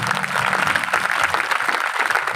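Church congregation applauding loudly, a steady dense wash of clapping filling the whole moment without letup.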